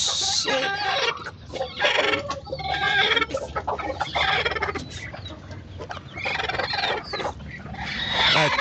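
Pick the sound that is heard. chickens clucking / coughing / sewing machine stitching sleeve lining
chickens clucking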